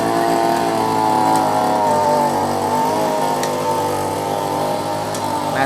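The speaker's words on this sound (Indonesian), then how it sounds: "ini proses pengadukan kapur dolomit. Jadi menggunakan mesin." A motorized machine churning dolomite lime into vineyard soil, a loud, steady, buzzing engine drone like a small tiller running continuously without pause, close by and alone.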